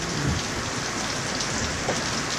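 Steady rain pours down in a Mekong river setting, a dense, even hiss of drops filling the whole stretch without pause, close and fairly loud, with no voices.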